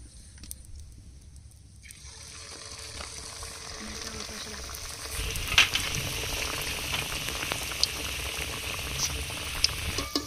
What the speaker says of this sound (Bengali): এবার কচ্ছপগুলো সব তেলে ভেজে নেব, একটা একটা করে ভেজে নেব।